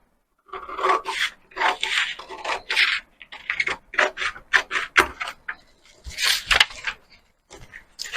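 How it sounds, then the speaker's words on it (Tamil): Scissors cutting blouse fabric in short rasping, snipping bursts with brief pauses, close and fairly loud, with no talking. "இப்போ நம்ம கட் பண்ணி காமிச்சிடுறேன்"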